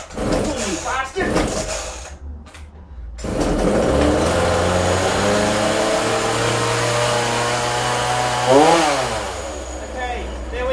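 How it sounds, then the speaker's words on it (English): A Ryobi RCS4240NB chainsaw's small two-stroke engine runs steadily and close by, revving up sharply near the end, with someone talking over it. "Chainsaw in work."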